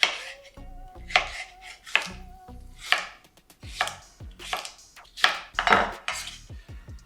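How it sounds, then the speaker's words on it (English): Knife chopping cucumber into cubes on a cutting board, a run of sharp, close, irregular chops with brief pauses between bursts, no talking. "We want to cut our cucumber in similar cube-sized pieces as our tuna"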